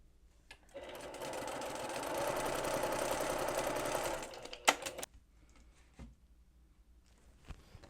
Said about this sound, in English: I'm going to sew scant 1/4 of an inch here.